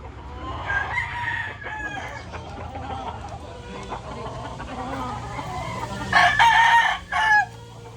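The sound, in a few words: chickens, roosters crowing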